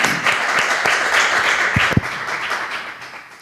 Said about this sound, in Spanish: le recibamos con un aplauso y así él se anima